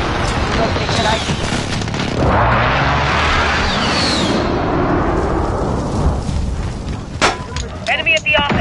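A long swelling roar of airstrike explosions in a video game, a broad rumbling wash that builds and fades over several seconds, followed by a few sharp crackling bursts, with a voice speaking over the action.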